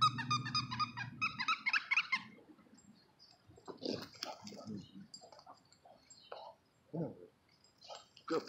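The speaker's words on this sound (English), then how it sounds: "Got some squeakers in here." Rubber dog toy squeakers squeak in a rapid burst of repeated high-pitched squeals, with a dog nearby, followed by scattered fainter squeaks and brief sounds through the rest.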